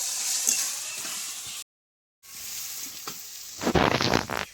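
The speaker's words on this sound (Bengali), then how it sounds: "আলুটা একটু ভাজা ভাজা করে নেবো" Potatoes fry in a pan with an even hiss and sizzle, broken by a short silent gap, then a louder burst of crackling and stirring near the end.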